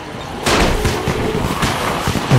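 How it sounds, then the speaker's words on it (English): Fireworks bursting in the zombie survival game Dying Light, a run of loud booming blasts with crackling tails, repeating every half second or so. "Woo, fireworks show."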